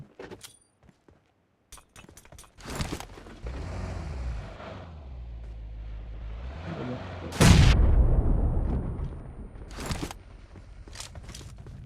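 A grenade blast in a multiplayer shooter game: a heavy, booming explosion bursts out loud midway, trailing into rumble, amid engine drone and scattered gunfire bangs.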